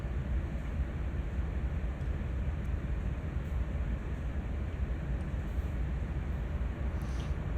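A CSX AC4400CW locomotive hauling an autorack train in Train Sim World, a loud steady low rumble heard from the cab with no break.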